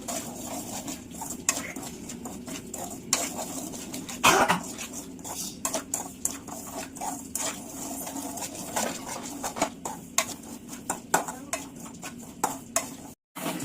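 Semolina (rava) dry-roasting in a hot kadai on a gas stove, a steady sandy rustle broken by frequent scraping stirs and light metallic knocks of a spoon, close and fairly loud with no talking.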